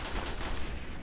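Dense, rapid turret gunfire in the Destiny video game, a loud sustained burst of overlapping shots filling the whole moment with no pause.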